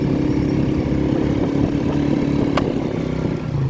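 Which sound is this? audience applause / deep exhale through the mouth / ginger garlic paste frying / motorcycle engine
motorcycle engine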